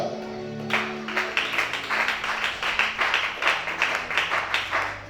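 Audience applause at a prayer meeting, a steady wash of many hands clapping that starts abruptly and keeps a loose, pulsing rhythm for several seconds, fairly close and loud.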